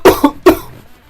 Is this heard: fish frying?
no